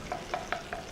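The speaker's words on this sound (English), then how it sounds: "So you get the garlic going. Already you can hear the sizzling." Garlic sizzles in a pan for a Thai stir fry, a soft steady frying hiss broken by four evenly spaced scraping stirs over about a second, close and fairly quiet with no voices.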